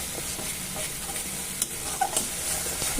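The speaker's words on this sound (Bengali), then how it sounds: "এবার আমি দিয়ে দিচ্ছি ওর মধ্যে সর্ষে পোস্ত কাঁচা লঙ্কা বাটাটা একটু ভালো করে মশলাটাকে মিশিয়ে নেব তেলের সঙ্গে" Mustard, poppy seed and green chili paste is stirred into hot oil, a close, continuous sizzle and fry with soft scraping of the spoon and a few sharper clicks against the pan, no voices.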